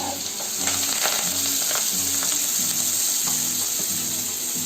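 Fresh leaves dropped into a hot garlic, ginger and chili paste tempering for a Gujarati meal, a loud continuous close sizzle with stirring scrapes throughout.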